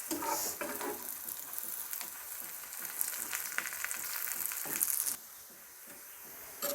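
Bay leaves and cinnamon are stirred in hot oil for a spicy chicken curry, with a steady frying hiss and spatula scrapes that drop to a quieter sizzle near the end.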